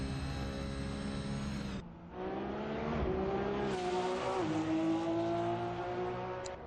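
An RSS GT-M Protech P92 F6 race car, Porsche-like, on a hot lap in a racing sim: a loud, continuous engine drone with rising and falling pitch through gear changes and a brief lift near two seconds, no voices.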